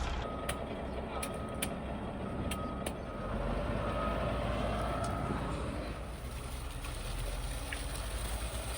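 A water truck arriving with a full load at a garden pond build gives a few spaced reversing beeps, moderately distant, over a steady rumbling engine and outdoor noise.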